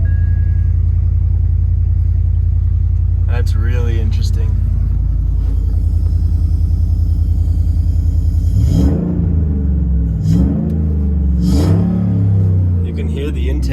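A supercharged Ford Raptor fitted with a FosterSCmods whine tube intake rumbles at a deep idle, then fires off several sharp revs with rising and falling whine near the end. A person speaks briefly over the engine.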